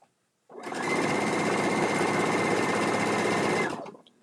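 A sewing machine runs a steady, continuous chain stitch for about three seconds, starting abruptly and stopping cleanly, loud and close with no talk over it.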